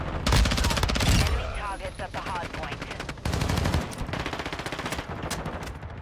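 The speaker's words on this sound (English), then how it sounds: "These decoy grenades are so annoying." Rapid bursts of fake gunfire from a decoy grenade in Modern Warfare 2 crackle loudly and continuously, overlapping other in-game gunshots in dense, stuttering volleys.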